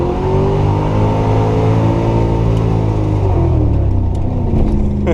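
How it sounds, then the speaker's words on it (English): A Camaro doing a burnout roars loud and close, its engine held at high revs in a sustained, rising drone with no talking. "Ivy's gonna do a burnout, so just pin the gas and don't end up in the ditch."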